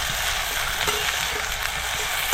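Chopped onion sizzles steadily in oil in a pan on a home stove while being stirred, giving a continuous close frying hiss with soft scraping from the spoon, and no talking.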